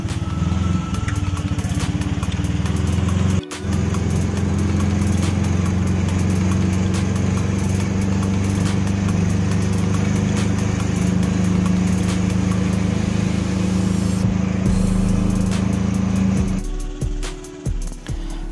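A motorcycle engine drones loudly and steadily during a ride home through Kochi, holding a constant low hum before dropping away near the end.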